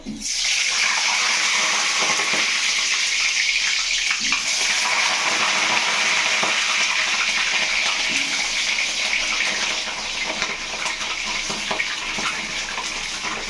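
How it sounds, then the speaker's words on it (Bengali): Potatoes frying in hot oil for mutton biryani, a steady, loud sizzling hiss that runs continuously and eases slightly toward the end. "আমরা এখন আলুটা ভাজতে দিয়ে দেবো।"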